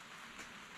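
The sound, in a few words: pouring rain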